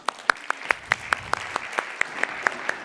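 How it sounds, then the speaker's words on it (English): A lone pair of hands claps about thirteen times at an even, moderate pace, crisp and fairly close, at a conference open-mic session with no talk over it. "I already applaud you"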